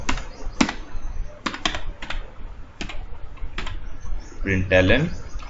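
Typing Java code on a computer keyboard, with sharp, separate key clicks at an uneven rhythm, close and fairly loud, ending in a brief burst of speech-like sound.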